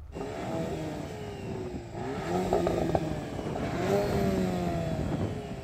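A VW Golf R engine revving: the pitch climbs and falls in repeated throttle blips, with a rough clattering note near the peak, heard fairly close.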